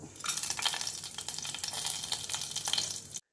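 Cinnamon, cardamom and cloves fry in a little hot oil in a pressure cooker on the stove, giving a dense, close, continuous sizzle with crackling bursts throughout, ending abruptly.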